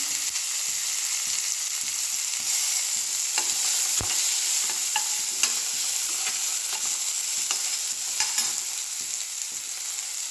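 Tomatoes frying in oil with popping mustard seeds in a pan for a ridge gourd palya: a steady, loud, continuous sizzle with scattered small crackles and a few stirring knocks, close and without speech.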